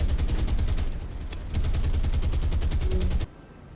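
Naval gunfire from the War on the Sea game, heavy cruiser guns booming in a rapid, continuous barrage of loud low blasts with sharp repeated cracks, steady for about three seconds before cutting off.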